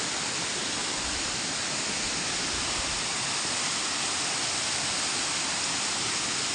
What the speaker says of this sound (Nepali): र आज म झरनामा आइपुगेँ।